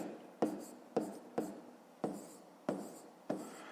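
A pen writes numbers on paper during a fifth-grade math exercise, giving about seven short, close scratching strokes at a steady rhythm.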